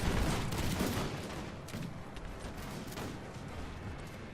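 Musket gunfire from a small skirmish between musketeers and fusiliers in Napoleon: Total War, a dense crackle of overlapping shots that is loudest at the start and then thins into a steady rattling battle din.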